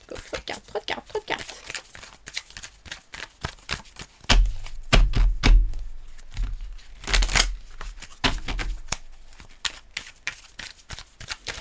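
Tarot cards being shuffled by hand, a fast run of crisp papery flicks and slaps, with a louder, denser burst of handling midway, close and alone without talk.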